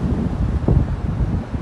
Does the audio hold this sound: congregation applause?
no